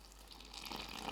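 Water is poured steadily into bajji batter in a bowl, a soft continuous trickling close by for about a second.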